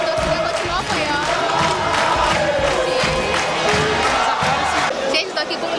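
Football supporters of Rio Branco cheer and chant loudly in a stadium as one dense, continuous roar of crowd noise, with voices rising now and then. A commentator talks over the crowd.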